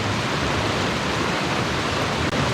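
Crazy Creek runs past a wilderness camp along the Magruder Corridor, heard as a steady, loud broadband rush of flowing water that fills the whole moment with no voices.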